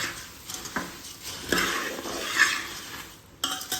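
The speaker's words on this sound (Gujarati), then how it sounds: "અને ફટાફટ હલાવી નાખવાના, નહીં તો હળદર અંદર નીચે પડી જાય" Puffed rice tossed with turmeric is stirred quickly in a pan for a savory chevdo snack: scraping, rustling strokes with a few sharp metallic clinks of spoon against pan, close and alone.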